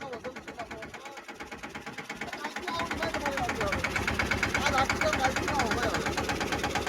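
A tractor engine chugs close by with a fast, even knocking pulse that grows louder partway through, while people talk over it.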